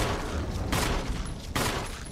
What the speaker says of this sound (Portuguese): quantos tiros eu dei nesse cara?